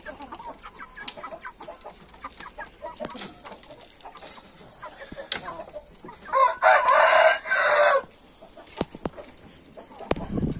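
A rooster crows loudly and clearly at a Brazilian poultry yard, with hens clucking intermittently and other birds calling throughout the clip.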